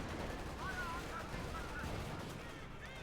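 Infantry gunfire in the World War II strategy game Company of Heroes 2 rattles through a dense, continuous bed of battle noise, with faint honking squeals mixed in.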